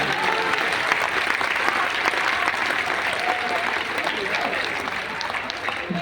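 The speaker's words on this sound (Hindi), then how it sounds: "तालियां कब आई आपकी?" An audience applauds at a live Hindi poetry recital at an exhibition in Aligarh, steady dense clapping from a large crowd, with voices speaking faintly underneath.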